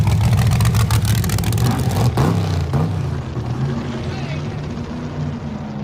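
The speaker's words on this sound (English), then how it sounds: "Firing order on this big block makes it sound almost seem like it's running on fuel." A big block race engine roars loudly at a speed trial event, then the note drops and settles into a lower, steadier drone partway through.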